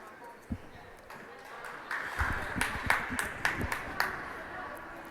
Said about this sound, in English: We got the JV girls up cheering too.